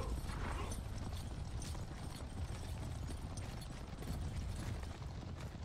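Horse hooves galloping in the video game Conqueror's Blade, a rapid continuous clatter of clip-clop hoofbeats over a dense battlefield din, steady and quiet.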